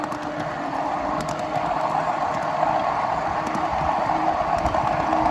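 A 7.5 inch gauge miniature flat/tank car runs along a backyard mainline, giving a steady, continuous rolling rumble with faint rhythmic clicks of wheels over rail joints throughout.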